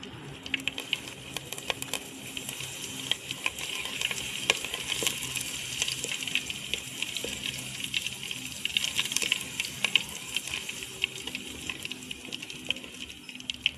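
Curry leaves crackle and sizzle in hot oil for a village-style sardine curry, making a faint, steady spattering with small scattered pops and no talk.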